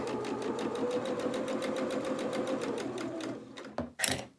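A sewing machine stitches forward and back on a small doll's dress, running in a fast even rhythmic whir that slows and stops near the end, followed by a couple of brief handling clicks.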